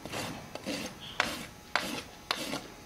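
A farrier's rasp is drawn across a horse's hoof during a barefoot trim at a clinic, with a series of distinct rough scraping strokes, each starting with a sharp bite and then fading, close and moderately loud.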